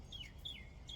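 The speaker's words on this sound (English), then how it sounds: "like the birds, listen to them." Birdsong outdoors: a few faint, high chirps and descending tweets repeat in short phrases over a steady low background rumble.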